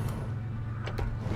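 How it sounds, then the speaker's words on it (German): A vehicle winch being released in the off-road truck game SnowRunner, heard as a brief low mechanical whir and clunk over a steady engine rumble. "Winde lösen."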